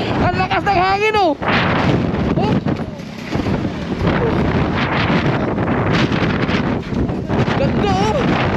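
Strong wind buffeting a microphone on a moving motorbike, a loud continuous roar throughout, with excited voices speaking over it.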